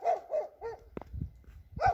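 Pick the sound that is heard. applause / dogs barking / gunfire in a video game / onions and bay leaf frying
dogs barking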